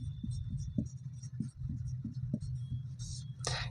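A pen writes out a maths solution on paper for a Class 12 relations-and-functions exercise, producing soft, close scratching strokes in short repeated bursts over a steady low hum, with no speech.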